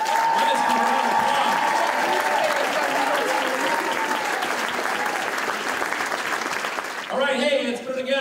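Sustained crowd applause fills a gala finale hall for a Leukemia & Lymphoma Society event, dense and steady for about seven seconds before tapering as cheering voices rise near the end.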